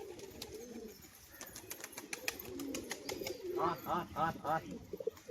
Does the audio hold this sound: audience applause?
no